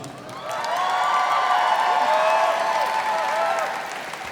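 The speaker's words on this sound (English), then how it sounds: "Please welcome Deb Rubin, Interim Dean of the Antoinette Westphal College of Media Arts and Design." Audience at a university design college commencement applauds and cheers, swelling and then easing off, with whoops mixed into the clapping.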